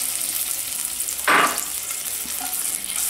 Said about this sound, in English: I'm going to gently saute this